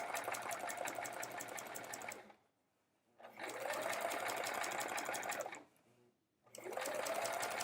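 A sewing machine stitches a quilt in three loud, close bursts of rapid mechanical whirring, separated by short near-silent pauses.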